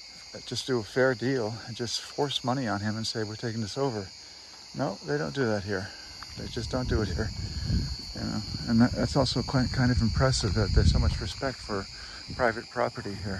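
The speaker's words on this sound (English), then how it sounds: "you hear the crickets in the background" Steady high crickets chirp outdoors among ancient ruins at Priene in Anatolia, a continuous faint trill running under someone talking throughout.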